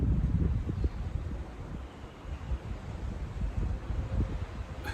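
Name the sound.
wind blowing outdoors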